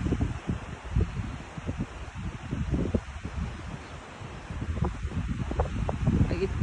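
Wind blowing along the seashore near Swansea University in the UK, a steady low roar with gusty buffeting that rises toward the end, close and fairly loud against the microphone.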